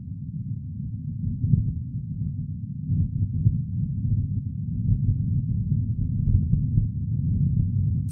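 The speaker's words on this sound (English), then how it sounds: "It's just Martian winds." Wind recorded on the surface of Mars, a steady low rumbling roar with gusty swells that stays fairly loud and continuous throughout, with no voices.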